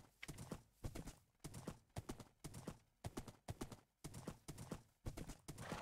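Horse hooves clip-clopping in Minecraft, crisp, close hoofbeats in an even, repeating rhythm of quick clusters, continuing steadily with no talk over them.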